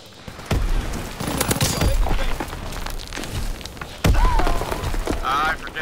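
Grenade blast in Call of Duty WW2 during a multiplayer match, loud thumping bursts amid gunfire and battle noise, with a player's voice heard over the action.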